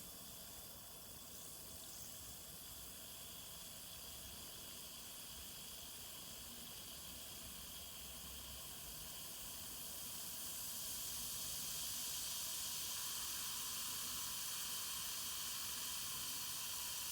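An Alka-Seltzer tablet fizzes in room-temperature water with a faint, continuous close hiss of bubbles that holds steady and swells a little toward the end.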